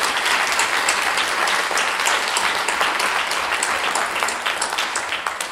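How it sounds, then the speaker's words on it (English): Audience at a League of Women Voters and AAUW parks forum in Thousand Oaks, California, applauds the volunteers with a dense, sustained round of clapping that stays loud throughout and tapers slightly at the end. "I think they all deserve a round of applause too."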